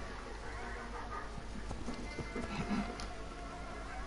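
Horse hooves clip-clop in the Assassin's Creed Origins game, a soft, uneven run of light steps over a steady background hum, with a louder hoof knock near the end.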